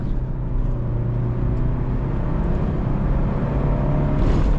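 A 2006 Fiat Petra Adventure 1.6 petrol station wagon with a manual gearbox, around 100 BHP, pulls away hard from a standstill, its engine drone steady and heavy from inside the cabin and rising slightly toward the end.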